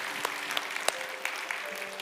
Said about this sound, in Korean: 다시 한번 우리 수고해준 행복한 사람들 팀에게 박수 한번 드리겠습니다